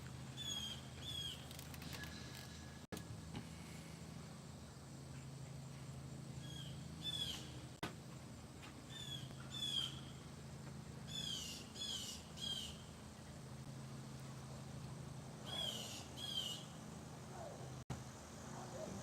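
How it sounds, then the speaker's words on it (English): Blackbirds call on a quiet morning, a scatter of short chirps and whistles coming and going at moderate distance over a low steady background hum, with no talk. "The blackbirds are out."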